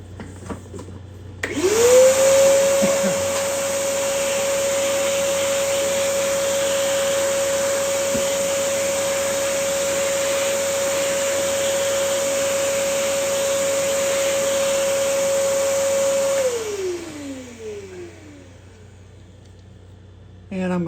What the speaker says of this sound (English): I'm going to do a quick vac.